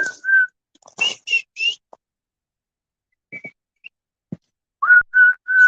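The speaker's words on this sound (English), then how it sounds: "Okay, big whistle." A big whistle blown at a camp, in short, bright piercing toots, a few in quick succession at the start, then a pause with faint clicks and three more loud blasts near the end.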